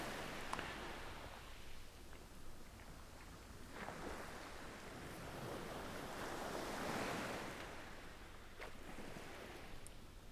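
Sea waves break on a beach in a soft, continuous wash that rises and falls in slow surges, with wind rumbling across the microphone underneath.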